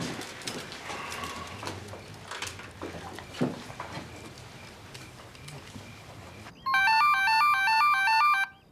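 An electronic telephone ringtone, a loud warbling trill that starts abruptly after a stretch of quiet footsteps, clatter and distant sounds, ringing steadily for about two seconds.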